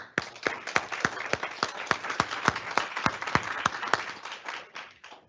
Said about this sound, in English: can we get one round of applause from everyone here and at home for all of our nominees this evening?